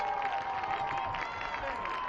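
Home crowd at a high school Friday night football game, Prairie at Liberty, roars steadily after a fourth-down sack, a broad, continuous wash of cheering and applause throughout.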